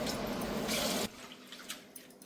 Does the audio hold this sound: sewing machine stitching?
no